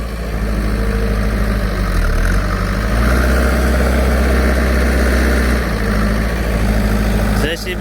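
JCB backhoe loader engine running on a farm while stuck in cattle manure, a loud steady diesel drone with low rumble and vibration that shifts pitch slightly midway, continuous throughout.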